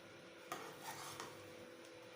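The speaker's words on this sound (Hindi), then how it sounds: "अभी इनको थोड़ा सा मिक्स कर लेते हैं" Green chickpea pulao being stirred in a pot, a few soft scraping knocks of a utensil against the metal over a faint sizzle, quiet and close.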